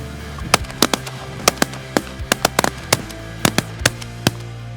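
Gunshots ring out during a hunt: a rapid, irregular volley of a dozen or more sharp, loud cracks from several shooters within a few seconds.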